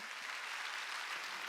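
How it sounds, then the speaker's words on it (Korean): Church congregation applauding at a Wednesday worship service, a dense steady wash of many hands clapping together, loud and continuous throughout with no voices on top. "깨달았으면 박수 치라고."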